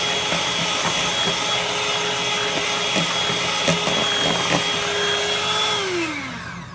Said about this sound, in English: So I'm gonna just use the mixer for like 2 minutes.